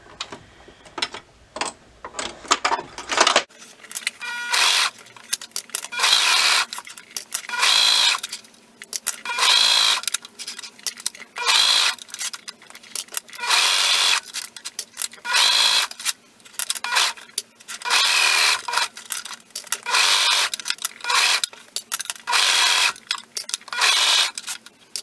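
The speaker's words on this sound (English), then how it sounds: "So I'm going to go ahead and stitch all my elastic down." A sewing machine stitches elastic down on an adult swimsuit with white thread, running in repeated bursts of steady whirring separated by short pauses, close and loud with no talking.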